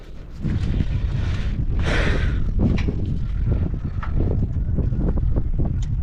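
A petrol generator converted to run on gas being started, a steady rough rumbling churn with bursts of hissing and sputter, loud and close throughout without speech.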